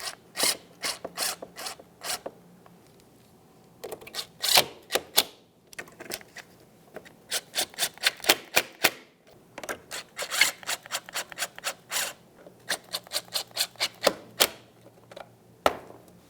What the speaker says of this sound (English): While holding this up, we'll just go ahead and tighten that nut.